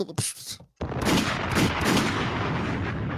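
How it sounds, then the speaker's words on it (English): Gunshot sound effect played in a radio interview: a brief sharp crack, a short gap, then a sustained dense burst of rapid gunfire that rolls on loudly to the end. "the gunshot is for effects. It's not for real."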